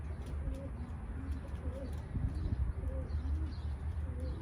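Pigeons coo in soft, repeated rolling calls against a steady outdoor rumble, several birds overlapping at a moderate distance.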